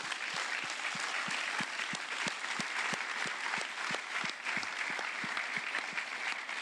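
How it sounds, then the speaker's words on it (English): An audience at a Vega-C rocket launch event applauds, a steady stream of dense clapping from many hands, moderately distant and without voices, holding for several seconds. "I ask you to pay one big applause to these people who are sitting here"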